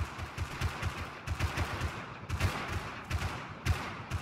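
Rapid bursts of gunfire in the video game Rust, with a steady stream of distant shots rattling in quick clusters at a moderate distance and no talk over them.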